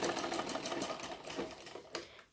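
A sewing machine runs a seam on the front piece of a bra-cut blouse, rattling rapidly in close, rhythmic bursts that ease off briefly near the end.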